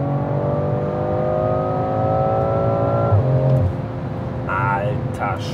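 A BMW Alpina B3 with 462 hp accelerates hard, its engine note climbing steadily through the revs before a gear change, heard from inside the cabin at close range with a brief voice afterward.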